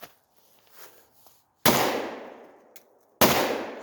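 Two sharp, loud gunshots from a factory Glock 10 mm pistol ring out about a second and a half apart, each with a long decaying echo, after a quiet stretch of faint outdoor noise.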